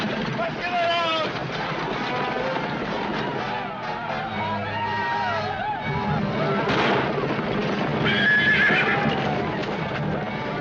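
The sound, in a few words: horses neighing and hooves clopping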